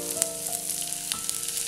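Garlic, ginger and cumin seeds fry in a pan with a soft, steady sizzle and occasional small pops and crackles, heard up close without talk.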